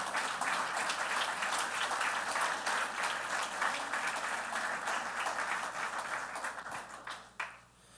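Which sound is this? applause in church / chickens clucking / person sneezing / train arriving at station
applause in church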